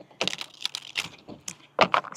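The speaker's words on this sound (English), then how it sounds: "Let me go ahead and start shuffling." A Rider-Waite Smith tarot deck being shuffled by hand, close crisp bursts of card riffling and tapping in an irregular rhythm, with no talking.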